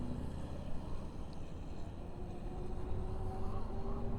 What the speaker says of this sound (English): The wind noise is louder than the bike noise.